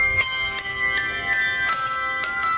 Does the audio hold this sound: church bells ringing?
yes